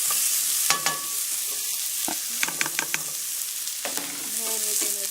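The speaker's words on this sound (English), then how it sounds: "Stir that up a bit." A spoon stirs soup seasoned with salt and pepper in a pot, soft scraping and knocking against the sides over a steady bubbling simmer.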